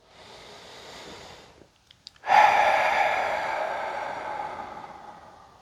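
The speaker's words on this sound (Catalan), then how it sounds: "fem una respiració profunda" A single deep breath during a guided meditation: a soft inhale, a brief pause, then a long, louder exhale that slowly fades, close and clear with no talking.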